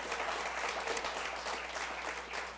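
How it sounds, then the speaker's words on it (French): A church congregation applauds Jesus during a Sunday service, a dense, steady wash of many hands clapping from a distance, fairly faint and sustained, with no speech over it. "Est-ce qu'on peut applaudir Jésus pour qui il est?"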